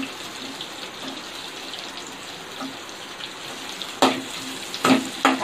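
Chopped onion sizzling in hot oil in a kadai, a steady soft crackle with sharper stirring clatters toward the end, no one speaking.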